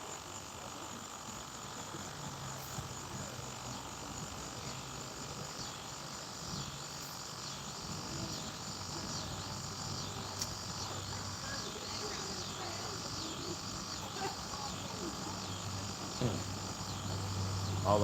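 Crickets chirp steadily outdoors in a continuous, fairly faint trill with a low background hum.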